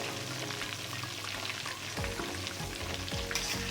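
Chicken tikka pieces frying in a pan over a low flame, a steady close sizzle and crackle with a few brief clattering stirs midway and no voices.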